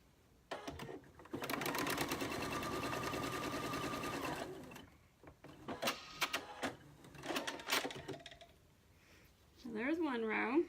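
A sewing machine stitches patchwork pieces for a pin cushion in a rapid mechanical run of about four seconds, then shorter bursts of stitching follow, and a voice speaks briefly at the end.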